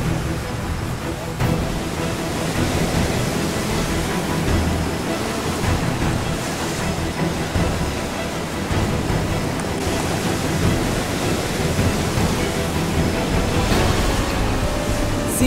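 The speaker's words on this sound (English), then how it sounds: "Seeing the waves crash along the coast really made you feel small." Ocean waves crash along a rocky volcanic coast near a blowhole, a steady loud wash of surf with rolling surges and wind noise filling the whole stretch.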